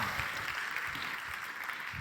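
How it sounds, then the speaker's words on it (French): Audience applause at a live mentalism stage show, a soft, steady patter of clapping over two seconds at moderate distance, with no one speaking. "vous pouvez l'applaudir à nouveau, oui, s'il vous plaît"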